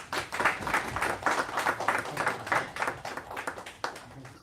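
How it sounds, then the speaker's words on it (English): Audience applause at a solar energy day event, a room of people clapping steadily with pulsing bursts throughout, fairly close and without speech. "Have a great applause, please."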